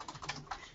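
Quick, soft keystrokes on a computer keyboard, a few taps in under a second, close and quiet with no other sound.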